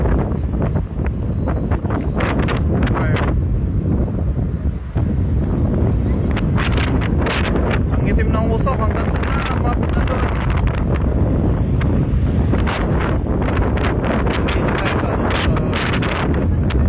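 Strong wind buffets the microphone in a continuous loud roar near a fire with black smoke, as a person talks over the rumble.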